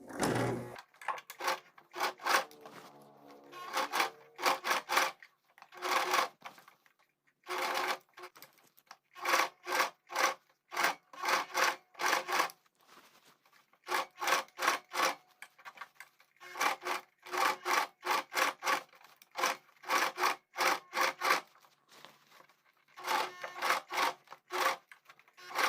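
A sewing machine stitches the hem of a straight skirt in repeated quick bursts of rapid rattling, with short pauses between runs, close and steady, and no one talking.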